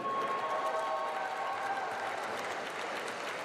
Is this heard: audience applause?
yes